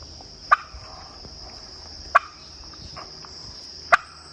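A turkey gobbles three times at regular intervals of roughly a second and a half, each call loud, close and abrupt, over a steady high insect-like hum and quiet background.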